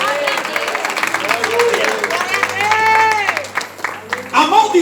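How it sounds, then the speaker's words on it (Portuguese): A church congregation claps and applauds during a service, a steady patter running under a preacher's loud, sustained voice. "Aplauda ele nessa noite."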